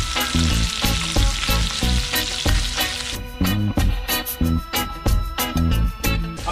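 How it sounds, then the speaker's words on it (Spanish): Chicken pieces fry in hot oil in a pan, a steady, loud sizzle and crackle with rhythmic low thumps throughout. "Aprovechando que tenemos friendo ahorita el pollo"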